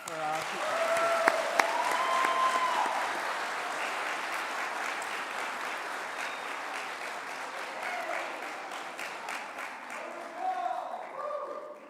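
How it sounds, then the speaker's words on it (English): A large crowd claps steadily at a practical nursing school graduation ceremony, dense sustained applause lasting many seconds with faint voices and cheers mixed in. "round of applause for our people"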